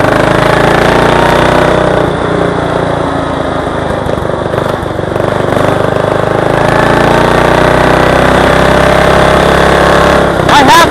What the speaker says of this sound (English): it is too damn fast for this mower to go